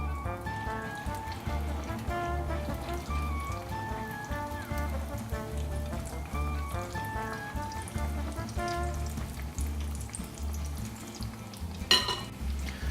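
Emu egg latke with a moist potato mix frying in a pan, a steady crackling sizzle with spattering pops and a brief clatter near the end, no talking.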